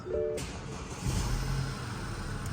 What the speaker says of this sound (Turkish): Onun için arabayı şimdi bir çalıştıracağım.